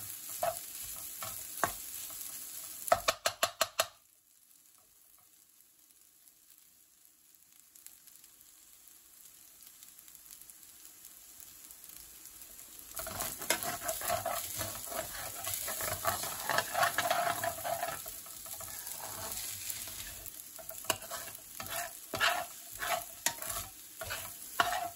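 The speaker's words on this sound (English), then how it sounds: "Stirring for 2 to 3 minutes to ensure the rice is piping hot before serving." Mushroom pilau rice being stirred in a hot pan, with sizzling and scraping that drop to near silence for a stretch, then return busier and louder.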